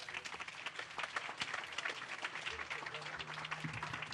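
An audience at a Hawaii memorial event for Senator Inouye applauds steadily throughout the clip. The clapping is dense and sustained, with voices talking underneath.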